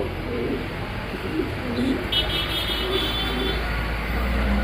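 Soft cooing of a pair of Afsan grizzle pigeons in a few low, throaty phrases, close by, over a steady background hum of distant traffic.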